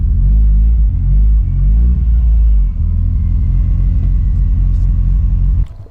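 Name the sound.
car driving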